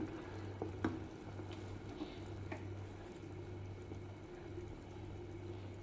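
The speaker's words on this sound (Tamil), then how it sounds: "தண்ணி நல்லா கொதிக்குதுங்க" A steady low bubbling and hissing of salted water boiling in a pot for rice upma, with a constant hum underneath and a few faint clinks, no voices.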